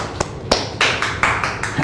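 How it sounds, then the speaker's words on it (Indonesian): Audience clapping after a group of five is congratulated at a talk, heard as a short burst of several distinct claps that build into a brief ragged round of applause. "tepuk tangan dulu"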